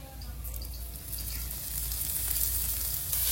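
Oil sizzles in a pan as radish greens fry, a close, steady crackling hiss that grows slightly louder over a few seconds, with no talking.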